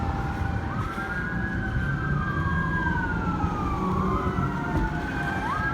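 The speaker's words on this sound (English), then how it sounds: "There are a lot of emergency vehicles up ahead of me." Several emergency vehicle sirens wail and sweep up and down on a downtown Phoenix city street, overlapping continuously over steady traffic rumble at moderate distance.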